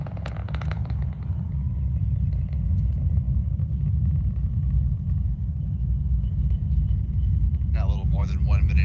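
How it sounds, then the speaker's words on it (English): Deep, steady rumble of a SpaceX Falcon 9 rocket climbing through flight, a continuous low roar holding level throughout, with a brief crackle near the start and faint higher chirps near the end. "the Falcon 9 now traveling faster than the speed of sound"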